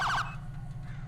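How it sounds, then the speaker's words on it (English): An LSPD police car's priority siren in the FiveM game gives a short, loud, rapidly warbling wail at the very start, then cuts off and leaves a steady low engine hum. "Priority siren."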